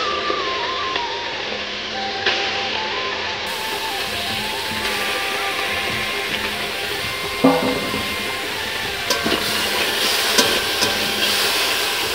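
Fish frying in a kadai with little oil gives a steady, even sizzle and hiss, with occasional small clatters and pops rising above it.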